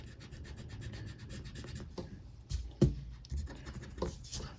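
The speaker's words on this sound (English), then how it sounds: "I could go back later and erase it." An eraser rubs back and forth over marker ink and graphite on paper, giving a soft, close, steady scrubbing rasp with a couple of firmer strokes, quiet and without speech.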